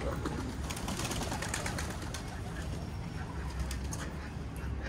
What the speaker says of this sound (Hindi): नीचे वालों को कुछ कबूतर कम कर लेता हूँ ना दानियल।